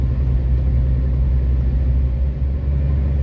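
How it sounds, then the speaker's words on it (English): A snowplow on a snowy road gives a low, steady engine rumble heard from inside a vehicle, holding constant and fairly loud throughout with no talk. "Oh, there's a snowplow coming down the other way."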